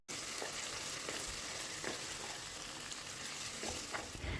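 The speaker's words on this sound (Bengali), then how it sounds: "এই তেলটা খুব ভালো করে গরম করে নিয়ে এর মধ্যে দিয়ে দেব তিন থেকে চারটি বড় সাইজের পেঁয়াজ কুচি" Three or four large chopped onions fry in hot oil, giving a constant close sizzle with faint stirring taps scattered throughout and no voices.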